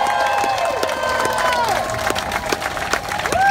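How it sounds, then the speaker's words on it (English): A crowd at a City Hall rally applauds and cheers for political candidates, with sustained clapping and scattered shouts under a steady hum of the gathering. "Keep clapping it up for them."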